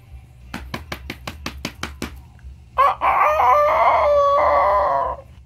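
About eight quick, even taps, then a person mimics a rooster's crow, a long, loud, wavering call held for a couple of seconds.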